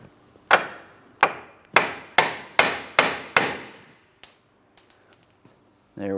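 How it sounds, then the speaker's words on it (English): Six sharp metallic hammer blows on a steering knuckle at the ball joint stud of a 2004-2008 Pontiac Grand Prix ring out at an even pace, each decaying quickly, followed by a few lighter taps and a soft clunk. "Now with my hammer, I'm going to be tapping on my steering knuckle where my ball joint stud is."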